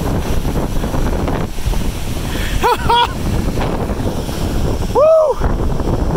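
Devil's Punch Bowl Falls roars at close range in a loud, constant rush of water, with wind buffeting the microphone and a person whooping twice.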